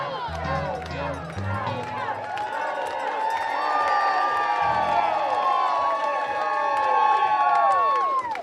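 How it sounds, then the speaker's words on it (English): A large crowd at a fair, with overlapping excited shouts, cheers and children's voices building into a loud, continuous roar, and a few deeper voices up close near the start. "a huge crowd has formed here"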